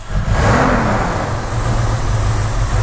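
A 1977 Dodge Ramcharger SE with a 440 big-block V8 revs up close by, one loud throaty rise that swells early and then holds as a steady rumble.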